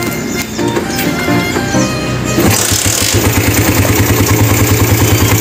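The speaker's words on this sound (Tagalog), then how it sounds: "Tapos try na natin na i-start yung ating motor." A Raider 150 motorcycle with a newly installed ignition switch cranks and fires up, then settles into a loud, steady, throbbing idle close by, with no talk over it.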